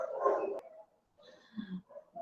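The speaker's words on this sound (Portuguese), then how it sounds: "Os cachorros aqui, viu?" Dogs bark nearby in a short irregular burst of yaps and whimpers, with brief gaps and a few sharper calls toward the end, heard without any talking.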